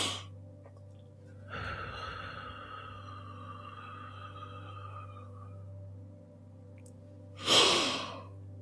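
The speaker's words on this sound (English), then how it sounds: "inhale quickly and deeply on go, and then exhale slowly on slow" A person breathes in a relaxation exercise: a short sharp inhale, then a long slow exhale lasting several seconds, and after a pause another quick deep inhale. The breaths are close and loud against a low steady hum.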